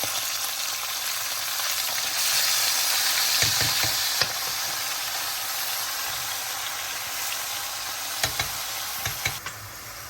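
Onion and meat sizzling in a pot for a Moroccan-style tajine, a continuous hissing fry with a few light knocks and stirring clatters, close and steady with no talking.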